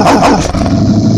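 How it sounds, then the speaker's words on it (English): A recorded dog bark played back as an alarm from a wave file, a loud growling bark that fills the short moment with no talk. "it's a wave audio file that's being played whenever this bark alarm is triggered"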